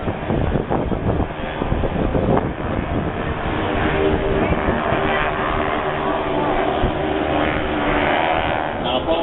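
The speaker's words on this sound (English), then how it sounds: "share these 1940s World War II aircraft with you in air shows" A World War II era aircraft flies over an air show in Atlantic City, giving a continuous loud engine roar with wind buffeting throughout, steady and fairly close.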